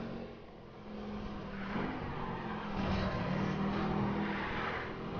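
Car drifting in the Need for Speed Rivals racing game, a steady engine drone with rising revs and faint tyre squeal, held at an even level and growing slightly louder toward the end, with no talking.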